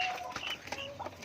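Turkey chicks peep on a farm, a few faint, short, high chirps scattered close together over quiet background noise.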